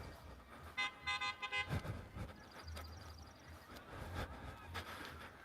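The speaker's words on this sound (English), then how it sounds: "People keep on honking their horn in the parking lot." Car horns honking in a parking lot, a run of repeated short toots followed by a longer sustained honk, heard at moderate distance over steady background noise.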